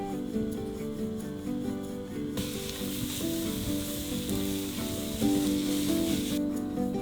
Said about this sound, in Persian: بعد از پیاز نوبت تفت دادن 2 کیلو کشمشه که از قبل تمیز شدن